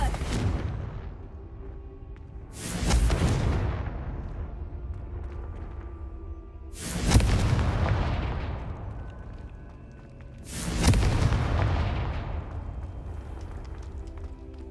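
Three heavy booming explosions from a Confringo fire spell in Hogwarts Legacy, each a sudden loud blast that rumbles and decays over a few seconds, spaced evenly apart.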